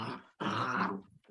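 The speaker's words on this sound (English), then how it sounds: "your dog is having fun there, Kelly." A pet dog growls in play, a close rumbling burst followed by a shorter grumble after a brief pause, with no people talking.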